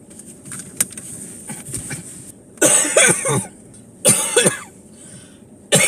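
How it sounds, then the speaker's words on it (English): A person coughs after eating, in two loud, harsh bursts, each a quick cluster of coughs, with quieter shuffling and faint sounds between them. "after I eat, I cough a lot for some reason"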